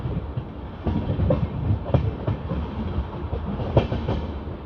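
An LHB-coach Hoshiarpur Agra Cantt Express runs along the track, with a steady close rumble of wheels and irregular rail clicks and thumps continuing throughout.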